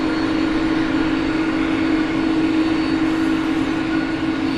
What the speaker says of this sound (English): You hear the whine of the A220 in the foreground